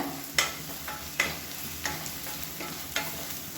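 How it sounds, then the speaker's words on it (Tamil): Spice powders and green chillies are sautéed in oil in a pan for a tomato salna. A utensil scrapes and stirs in a steady rhythm, about every second, over a soft, constant sizzle. "நல்லா வதங்கிடுச்சு பொடி எல்லாமே."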